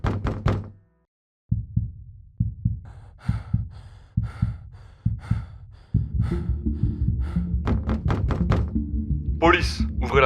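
Police pound on a door in a series of heavy, hollow thuds at a steady pace, followed by louder rapid banging mixed with breathing and gasps.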